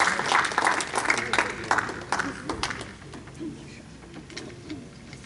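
Applause from an audience at an Urdu literary evening fills the room as a poet is welcomed to the stage, dense at first, then thinning to scattered claps under murmuring.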